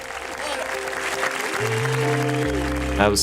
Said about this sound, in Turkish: Lütfen muhteşem Craig'i alkışlayın